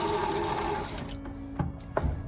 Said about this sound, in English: Simply gently pull it up and pull this up to bring the water out of the tank.